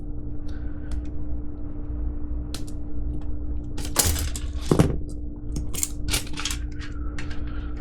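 A part is snipped off the sprue of a vintage Testors 1/48 F-19 Stealth Fighter plastic model kit, giving a few sharp close clicks and snaps over a quiet background hum.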